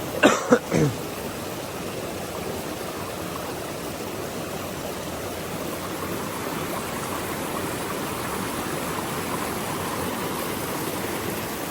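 Heavy rain falls steadily in a forest near a waterfall, producing a constant broadband hiss with a few short coughs or throat sounds at the start.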